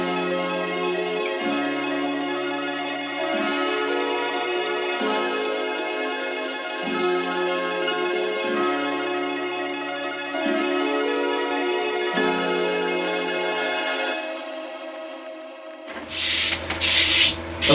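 A drill bores holes into a custom guitar fretboard, its motor whine steady and loud with a pitch that dips each time the bit bites, repeating in a regular rhythm before ending in a few clattering knocks.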